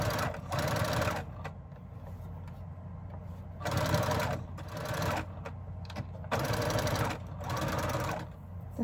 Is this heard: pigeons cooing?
no